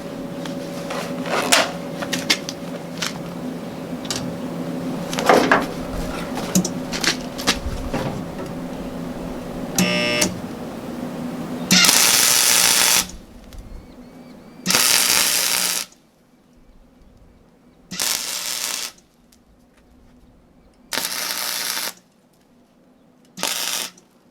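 A Hobart Handler 100 MIG welder welding quarter panels: after some clicking and mechanical handling noises, five loud bursts of hissing, crackling arc sound, each a second or two long, separated by near silence.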